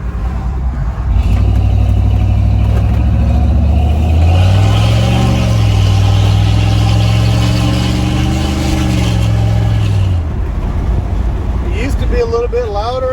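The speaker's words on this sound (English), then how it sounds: "Listen to this exhaust." A car engine with a Spectre Performance air intake idles, then revs up with a throaty exhaust roar that rises and falls before settling, loud and close.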